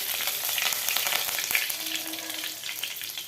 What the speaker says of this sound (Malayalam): 3 ടേബിൾ സ്പൂൺ നല്ലെണ്ണ ഒഴിച്ച് 1 ടേബിൾ സ്പൂൺ കടുകും 1 പിടി വരെ കരിവേപ്പില 6 വറ്റൽമുളകും ഇട്ട് ഇളക്കി